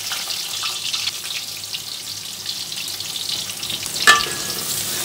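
Onions sizzle and fry steadily in a pan of hot oil with bay leaf, cardamom and cloves for a Khulna-style beef curry with chui jhal, a continuous close crackle with a few stirring scrapes and a brief clink near the end.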